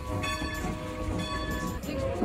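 Strasburg steam train number 90 pulling away on its final excursion run: a steady rumbling rail roll with faint tonal whistle-like lines, no talk.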